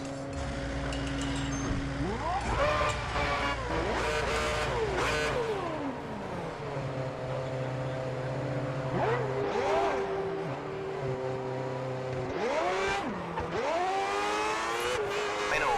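Formula 1 car engine from the F1 2010 video game on a qualifying lap, screaming loudly through repeated rising upshifts and falling downshifts as it brakes and accelerates, continuous and close throughout.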